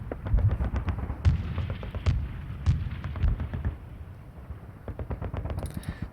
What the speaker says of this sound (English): Let's get some Spitfire strafing the HQ here as well.